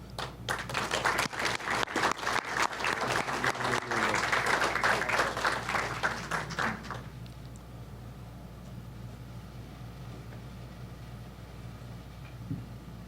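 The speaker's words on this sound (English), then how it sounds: "give them a round of applause" An audience at an electrical lineworker graduation claps in a steady burst of applause for about seven seconds, then it fades to quiet room noise.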